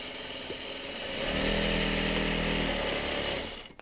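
An industrial sewing machine runs at speed while quilt blocks are sewn, a steady, close motor whir that swells to a full buzzing drone, holds for a couple of seconds, then winds down.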